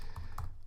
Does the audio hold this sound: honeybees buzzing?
no